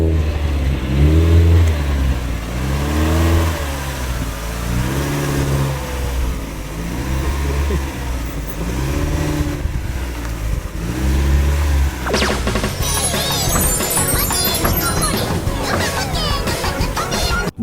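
A widebody Mazda Miata drives close by, its engine revving in repeated rising and falling pulls, then a burst of harsh rattling and clatter near the end, loud and up close.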